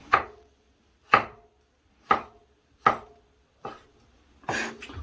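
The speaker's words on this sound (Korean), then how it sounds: "이 칼질을 할 때 보통 이렇게 움직이면서 자르는데" Knife chopping ingredients on a cutting board while preparing seafood jjamppong: six distinct, close, crisp chops spaced about a second apart in a quiet kitchen, the last one a little rougher and longer.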